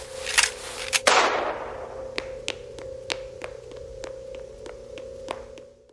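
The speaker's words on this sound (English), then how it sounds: "There's a loud gunshot, and the recording ends." One loud gunshot cracks out near the start of an eerie analog horror recording set at a city council meeting. A run of sharp, evenly spaced clicks and taps follows over a steady low drone.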